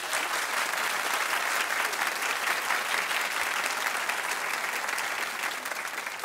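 Dense, steady applause fills a television studio audience, loud and continuous without pause.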